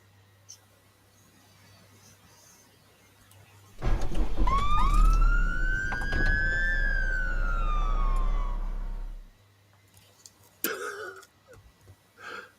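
A police siren sound effect wails loudly in rising and falling sweeps for about five seconds, alone, then cuts off into a few brief knocks.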